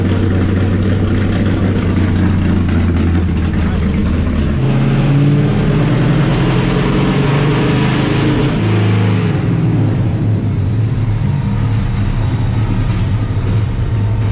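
A nitrous-fed LS7 V8 in a NASCAR truck revs hard and loud, a continuous deep engine roar that steps up in pitch partway through and then settles. It may be running slightly rough.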